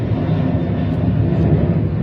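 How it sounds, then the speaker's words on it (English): Steady, loud low roar of an airplane taking off close by at an outdoor women's American football game, a continuous rumble filling the whole moment with no break. "Can't hear because the plane taking off next to her anyway"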